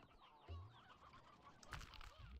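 Video game chickens from Slime Rancher 2 cluck and squawk in a busy, overlapping chorus, a sharper burst of flock noise rising near the end.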